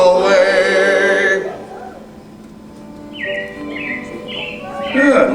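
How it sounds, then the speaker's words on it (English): Animated robins chirping as a show effect in the Carousel of Progress attraction at Magic Kingdom, short bright tweets repeating after a sung passage, with voices around them. "it looks like the Robins are getting ready to celebrate Valentine's Day today"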